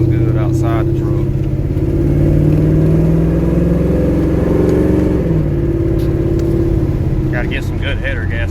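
A 1992 Chevy Silverado pickup with a swapped LS 5.3 V8 and newly fitted exhaust idles and revs, its deep, loud rumble steady and close, rising and falling slightly.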